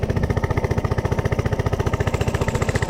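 A Coleman CC100x mini bike engine held at full throttle under a rider of about 200 pounds, bogging as it strains to move: a loud, steady, rapid pulsing thump, close and continuous throughout.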